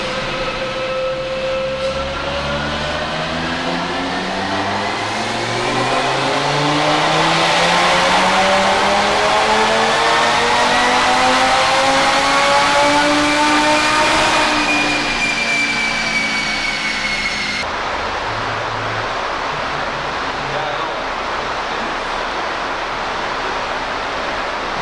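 An all-wheel-drive Audi RS3 with an Integrated Engineering turbo inlet runs on a dyno, its loud engine note climbing steadily in pitch through a long rev under heavy roar, then cutting off abruptly to a lower idle-like rumble.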